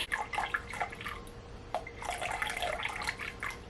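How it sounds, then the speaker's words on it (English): Water pouring into a large glass bowl for a double batch of sourdough, a close splashing, trickling stream with small bursts running steadily throughout. "starting with my largest glass bowl, I've already got a little bit of the water in there, but we're going for 600 grams of water"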